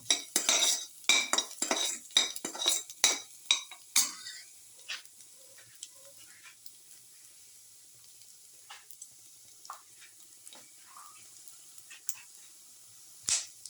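Utensil scraping and clattering in a pan while sautéing for a garlic tomato yogurt casserole, with rapid busy strokes for the first four seconds, then sparse faint clinks and light sizzling.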